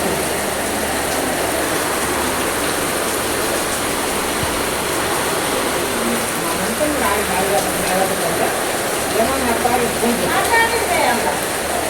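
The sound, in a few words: heavy rain falling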